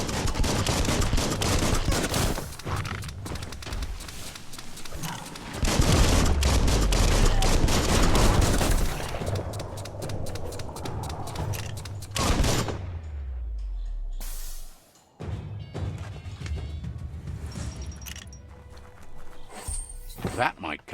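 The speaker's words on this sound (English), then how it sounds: "Bullets everywhere." Gunfire in the video game Biomutant, with repeated bursts and volleys over a low rumbling game backdrop, loud and near, broken by a short silence, while a person talks over much of it.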